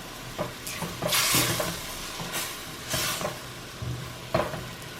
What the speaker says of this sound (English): scrape the bottom of the pot so that you can get all that flavor